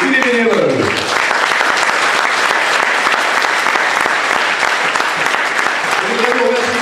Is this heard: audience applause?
yes